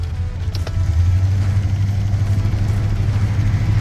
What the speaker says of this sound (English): It likes to stall, so I gotta constantly give it a little bit of gas.